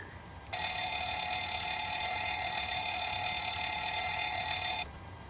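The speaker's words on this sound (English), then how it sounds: "And now let's test our alarms and sirens." Cockpit warning test in a PMDG 737-900 flight simulator game: a loud, steady, high-pitched electronic alarm tone rings continuously for about four seconds, starting and stopping abruptly, with no talking.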